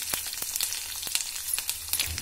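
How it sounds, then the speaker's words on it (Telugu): Mustard seeds, green chili, curry leaves, cashews, pepper and ginger fry in hot oil as a tempering for hot pongal, crackling and popping steadily up close with sharp sputters. "ఇవైతే వేసేసుకొని కొంచెం ఫ్రై చేసుకుందాము"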